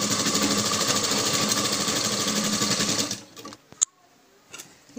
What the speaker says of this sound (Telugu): ఈ క్లాత్ను కొంచెం ఇలా ఫోల్డింగ్ చేసుకొని మనము క్లాత్ అనేది కుట్టుకుంటూ రావాలి